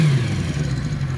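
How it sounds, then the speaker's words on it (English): A warmed-up late-1970s Benelli 250 Quattro four-cylinder motorcycle engine revs loudly and close by, a steady high-RPM drone with a slight dip partway through, with no talking. "It's already warmed up, so don't worry that I'm revving it."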